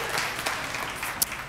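An audience at a church talk claps together in a short, dense burst of applause, even and moderately loud, with one sharper clap standing out near the end.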